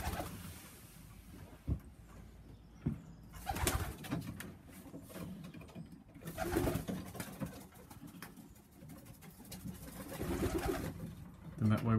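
Tippler pigeons coo repeatedly at close range in a loft shed, soft throaty calls rising and falling in bursts across the whole stretch with steady background murmur and some talk.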